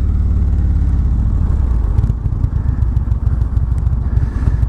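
A 2019 Indian Chieftain touring motorcycle, about 835 pounds wet, being ridden, its deep engine rumble steady at first, then breaking into a choppy, pulsing throb, loud and close.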